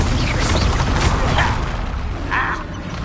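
Confringo fire-blast spell in the Hogwarts Legacy video game, a loud dense roaring burst with crackling and rumbling explosive noise filling the moment, followed by smaller pops, with no talking.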